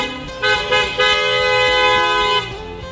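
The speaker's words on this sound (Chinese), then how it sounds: "后面的车滴滴滴滴的" Car horns honking from vehicles waiting behind on a road, several loud overlapping toots that start after a short pause and hold for about two seconds before stopping.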